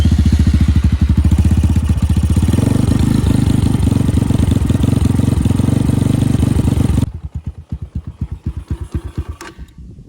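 An X-Pro Titan 250 motorcycle engine warming up, a loud rapid idle that rises briefly in pitch, then settles into a slower, uneven putter after about seven seconds.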